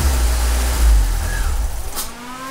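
A Fiat Seicento SPI Turbo engine idles roughly and unevenly, its low rumble surging and sagging as it nearly stalls, with a brief mechanical click near the end.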